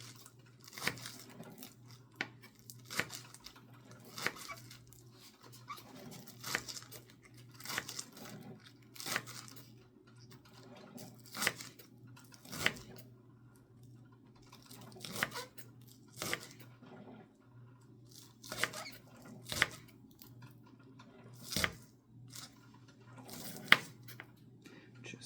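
Crisp, close cutting strokes chop through food into little pieces, landing in an uneven, steady rhythm of about twenty cuts with short pauses, no talking over them.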